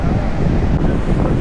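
Ocean waves wash onto Agonda Beach in Goa as a steady, loud broadband rush with wind buffeting the microphone, continuous for the whole moment.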